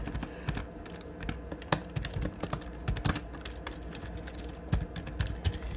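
Steady, fast typing on a computer keyboard while writing C code, close and fairly quiet, with irregular key clicks and no talk.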